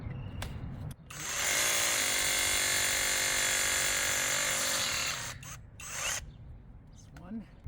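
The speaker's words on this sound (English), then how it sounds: "we're going to drill the first hole here" A brushless heavy-duty rotary hammer drill bores a hole into a brick wall, a loud, steady grinding drone lasting several seconds, with short bursts and handling noise before and after.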